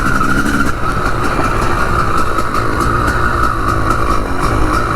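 A 2005 Honda 250CR enduro motorcycle engine runs steadily and loudly close by, a continuous mechanical drone with a rattly, valve-ticking edge and no talk over it.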